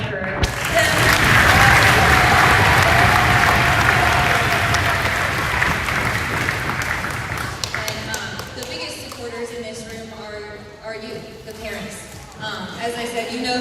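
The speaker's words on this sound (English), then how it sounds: "So round of applause for them." A concert audience bursts into loud, dense applause that gradually thins into scattered claps, with a voice and murmuring coming through as it dies down.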